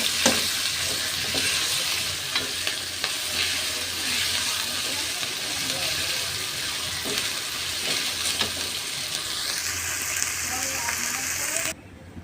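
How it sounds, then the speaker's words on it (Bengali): Onion with ginger-garlic paste frying and being stirred in a pan, a steady close sizzle with scattered clicks of a utensil for about twelve seconds before cutting off abruptly. "পেঁয়াজটা ভাজা ভাজা হয়ে আসলে আদা রসুন বাটা দিয়ে দিয়েছি।"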